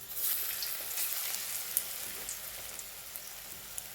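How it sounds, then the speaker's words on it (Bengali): Small dollops of cabbage pakora batter fry over a low flame in hot white oil, giving a soft continuous sizzle with scattered tiny pops and crackles, fairly quiet and with no voices. "এবার আমি এরকমভাবে ছোট ছোট আকারে ছেড়ে দেবো তেলের ভিতরে।"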